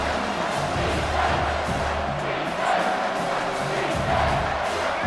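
Steady, loud stadium crowd roar swelling into cheers around a big third-down play in the College Football 25 video game, continuous throughout with brief surges.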